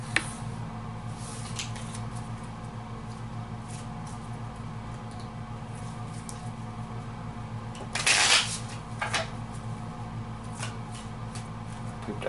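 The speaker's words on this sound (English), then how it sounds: "And I'll shuffle." A deck of Marvel Legendary deck-building game cards gets a quick riffle shuffle, a short crisp flutter midway through an otherwise quiet indoor stretch with light handling noises around it.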